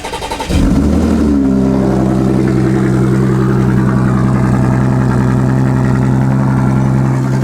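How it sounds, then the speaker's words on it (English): A high-mileage Audi S4 engine cranks and catches with a loud burst, then settles into a strong, throaty idle that rumbles steadily and close by. "Let's get some heat in the engine."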